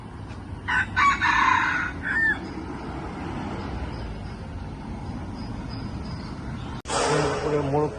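A wild junglefowl rooster crows outdoors in Singapore with a single clear, drawn-out call at mid distance. A voice talks through the rest, with another burst of sound near the end.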